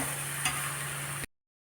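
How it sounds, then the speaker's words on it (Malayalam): Soya chunks being stirred to dry in a pan over a medium-low flame on the stove, giving a steady close soft scraping and faint sizzle that cuts off near the end. "മീഡിയം ഫ്ലെയിമിൽ വെച്ചിട്ട് ഇങ്ങനെ സിം അല്ലെങ്കിൽ സിമ്മിൽ വെച്ചിട്ട് ഇങ്ങനെ മിക്സ് ചെയ്ത്"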